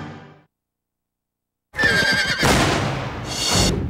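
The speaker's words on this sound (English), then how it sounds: "It's time to break that horse." A loud, close horse neigh rings out after a moment of silence, followed by further whinnying and snorting.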